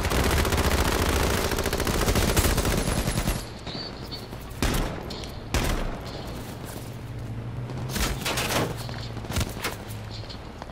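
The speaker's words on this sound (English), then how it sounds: "somebody's shooting you from the back" Automatic gunfire in H1Z1: Battle Royale: a loud, continuous rattle of rapid shots for about three seconds, then scattered single and clustered shots at a distance.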